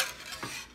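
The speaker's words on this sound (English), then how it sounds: "Dylan is going to stir it with a whisk" A whisk stirs MRE food in its pouch, a brief soft wet scraping and swishing, faint and close, lasting under a second.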